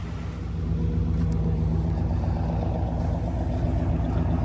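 An old car's engine, running again after a loose spark plug wire was fixed, idles in a steady low rumble, even and close with no voices.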